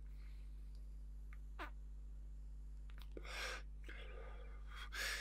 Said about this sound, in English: Primer puff and then a proper inhale exhale.